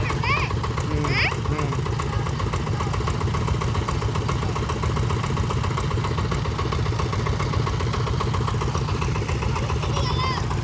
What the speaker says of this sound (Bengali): বড় ইঞ্জিনটা স্টার্ট দিলে বিকট শব্দ করে